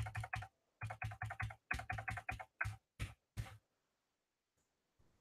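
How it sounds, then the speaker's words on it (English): Keys on a computer keyboard are tapped in a quick, close burst of clustered keystrokes lasting about three seconds, then fall silent. "I'm going to type what that looks like."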